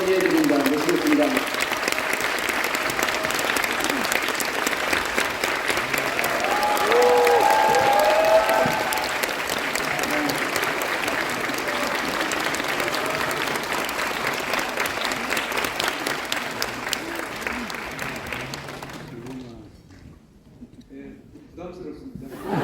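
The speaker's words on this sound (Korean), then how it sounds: "여러분 뜨거운 박수로 문영배 작가님을 소개해드립니다" A crowd at a civic lecture and book-signing event in Bucheon City Hall applauds to welcome the speaker, sustained loud clapping with some cheering that fades out near the end, while a voice speaks over it.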